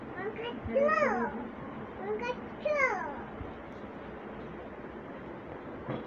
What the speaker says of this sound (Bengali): এটা কি তোমার বিড়াল?